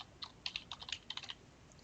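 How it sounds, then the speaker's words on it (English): A website address being typed on a computer keyboard: a short, quick run of about a dozen light key clicks in an irregular rhythm, close by and fairly quiet, with no voices. "we'll type in a website address"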